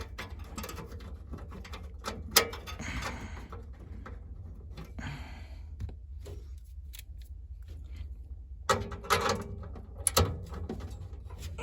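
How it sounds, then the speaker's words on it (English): A screw is driven into a Lennox furnace during a no-heat service call, with intermittent ratcheting and scraping clicks in short bursts against a low background hum. "I'll put that screw on first"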